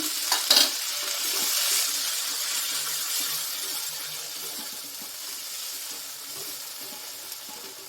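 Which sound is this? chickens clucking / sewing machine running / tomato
tomato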